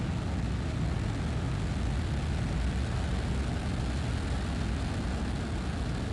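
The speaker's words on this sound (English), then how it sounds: "Ignition. Engines full power and liftoff." A SpaceX Falcon 9 rocket lifts off from Cape Canaveral, its engines at full power giving a loud, steady, deep rumbling roar that holds without a break from start to finish.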